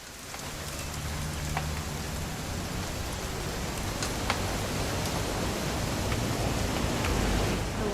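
Continuous video game rainfall hissing steadily, with a faint low hum underneath and a few isolated drip clicks.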